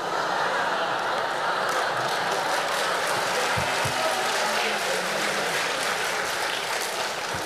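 Sustained audience applause fills a comedy crosstalk show aboard a cruise ship, a dense steady wash of clapping from a large crowd with faint voices mixed in.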